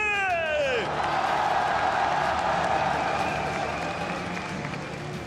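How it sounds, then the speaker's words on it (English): A live crowd at the 2018 Mid-Season Invitational esports semifinal applauds the RNG team with a steady, loud wash of clapping and cheering that tapers slightly, opening with a brief falling whistle. "S'il vous plaît, une fois de plus, applaudissons tous ensemble les RNG."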